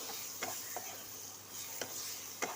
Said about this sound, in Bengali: পটল এদিকে বাইজা লাইতেছি।